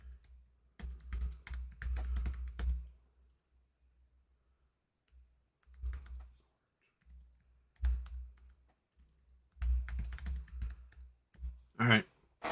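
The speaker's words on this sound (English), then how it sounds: "tap, tap, tap of your keyboard" Bursts of typing on a computer keyboard, rapid close clicks in several separate runs with quiet gaps between, and a brief voice near the end.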